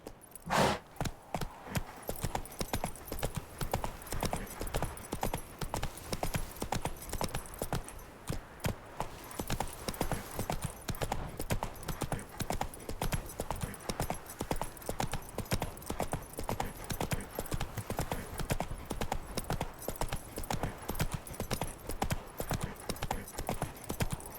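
Geralt's horse Roach trotting in The Witcher 3, a steady rhythmic clip-clop of hooves close up, continuing evenly throughout with a brief pause partway.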